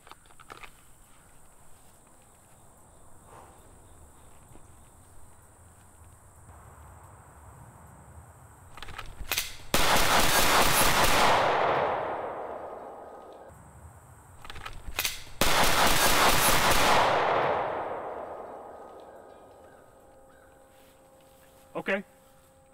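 Rapid pistol shots from an M17 handgun on a range, fired in two loud, dense bursts several seconds apart, with one more sharp crack near the end over quiet outdoor background.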